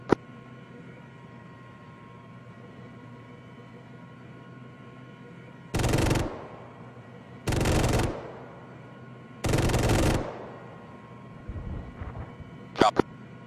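Bursts of infantry gunfire in a military shooter game: three loud sustained volleys about two seconds apart over a steady engine-like hum, followed by scattered shots and a sharp crack at the end.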